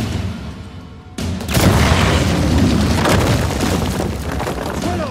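A bomb goes off in Uncharted 4: a sudden loud boom that rolls into a sustained, heavy rumble of debris and blast noise for several seconds.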